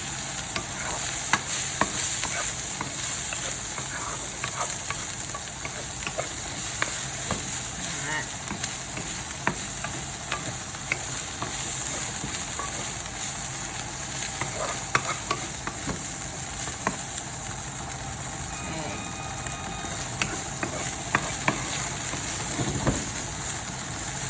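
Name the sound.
tofu frying and being tossed in a pan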